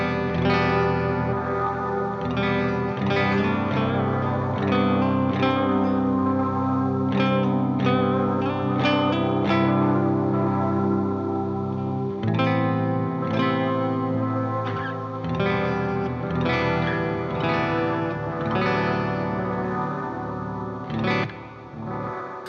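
Sustained electric guitar through reverb and delay pedals, drenched in shimmering reverb and echoing delay with slight self-oscillation, chords and notes blooming into a dense, swirling ambient wash that plays continuously and fairly loud.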